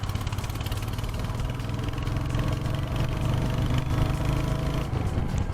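A Royal Enfield Hunter 350 motorcycle sits idling nearby, its single-cylinder engine giving a steady low throbbing thump that stays even and fairly loud from start to finish.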